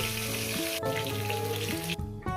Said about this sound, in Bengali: বাদ বাকি মাছ আমি দিয়ে দিচ্ছি দিয়ে দিচ্ছি বন্ধুরা মাছগুলো একেবারে ভেজে নিচ্ছি